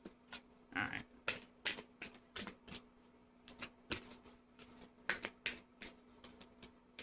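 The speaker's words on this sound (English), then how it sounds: "It was an interesting shuffle." A deck of oracle cards is shuffled softly, giving a quiet, uneven run of riffling taps and flicks close by, with no talking.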